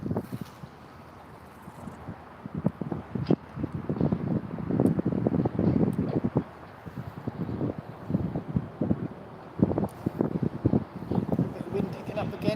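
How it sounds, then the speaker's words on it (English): Wind buffeting a microphone outdoors while fishing, low rumbling gusts that swell and fade irregularly, fairly loud and close. "Wind picking up again. Hopefully it's not too bad on the microphone."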